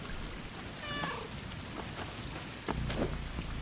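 A cat meows several times over steady rain inside the video game Stray, the meows rising briefly near the start against a constant patter of rain, followed by a couple of short brighter sounds later on.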